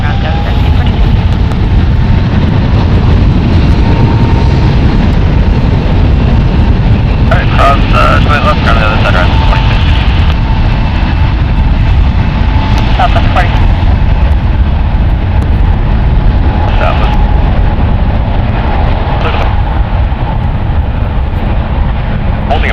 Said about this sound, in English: That was United Airlines Flight 2243 going into Washington. It's a Boeing 777-200